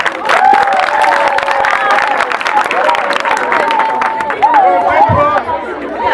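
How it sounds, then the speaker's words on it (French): School audience applauds and cheers for a Green School at a clean school-year opening, a loud crowd roar of clapping mixed with chatter and a voice rising through, busy and close throughout. "Applaudissez pour cela."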